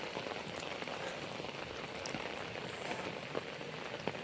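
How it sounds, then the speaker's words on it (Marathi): A heavy downpour falls over hillside fields in a Sahyadri village, an unbroken loud roar of rain with scattered nearer droplet hits. "पावसाचा अजूनही तसा जोर एक पासाने गेली, दुसरी पासाने लगेच त्याच्या पाठीमागूनच येते."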